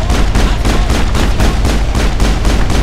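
Rapid, sustained automatic gunfire from the video game Mass Effect, loud and continuous with dense repeated bursts throughout, no talk over it.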